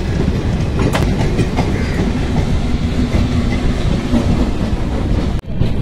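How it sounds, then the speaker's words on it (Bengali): The Kumbh Express special train runs toward Prayagraj, a loud continuous rumble with rhythmic wheel clatter heard from inside the carriage, briefly dipping near the end. "এটা কুম্ভের জন্য স্পেশাল ট্রেন, কুম্ভ এক্সপ্রেস"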